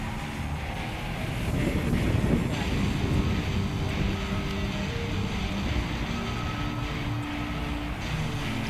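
A steady, droning motor hum from a Tower Hobbies Razor 3D radio-controlled model airplane in flight, fairly constant in level throughout, with wind noise buffeting the microphone.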